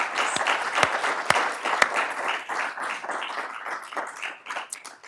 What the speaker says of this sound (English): So let's give a round of applause to Kate.